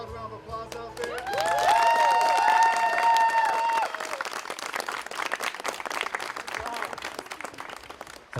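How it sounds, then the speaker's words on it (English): A loud round of applause from a wedding reception crowd, sustained for several seconds and then tapering, with music and a voice heard under and after it. "Once again, a loud round of applause out there."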